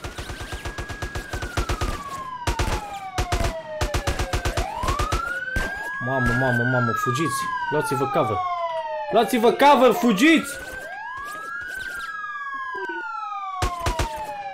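Police car sirens in the MTA (Multi Theft Auto) video game wail in repeated rising and falling sweeps from several vehicles at once, with bursts of gunfire and excited shouting voices mixed in.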